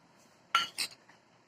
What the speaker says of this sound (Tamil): இது எல்லாத்தையும் நல்லா கலந்து விட்டுறலாம்